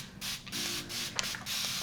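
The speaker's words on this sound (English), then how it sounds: "we're gonna spray with some water, get some detangling action up in here" A hand spray bottle mists water onto type 4 hair for detangling, several quick sharp hissing bursts separated by short pauses, close and clear with no talking.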